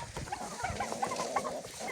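A hen clucks in quick, soft repeated notes nearby, mixed with low farmyard rustling and other birds.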